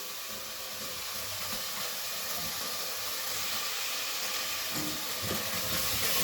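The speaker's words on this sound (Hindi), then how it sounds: "ये देखो मसाला जो है अभी लोहे के ऊपर भुड़क रहा है, डांस कर रहा है।" Spice masala for shaljam gosht fries in an iron pan, giving a continuous loud, steady sizzling hiss throughout with no talking.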